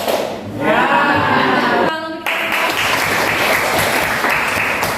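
An eighth-grade class claps in a patterned school cheer, a loud burst of hand claps with some voices mixed in, then steady dense clapping filling the room.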